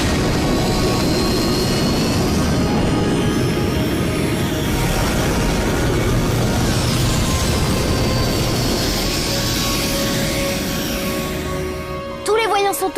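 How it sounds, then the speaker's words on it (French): A roaring engine rumble with a rising whine as a Code Lyoko cartoon aircraft takes off on vertical propulsion, loud and continuous before fading slightly near the end. "Propulsion verticale enclenchée."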